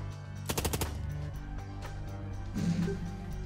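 Gunfire in the video game Long Gone Days, a quick rapid burst of about five loud shots followed by a lingering low rumble and faint game sounds.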